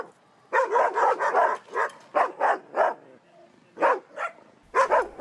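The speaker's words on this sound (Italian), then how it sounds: "i cani che abbaiano all'ingresso dell'area cani e abbaiano continuamente" Several dogs bark at the entrance of a dog park in a quick, busy cluster of loud, close barks, then pause briefly before a few more bursts.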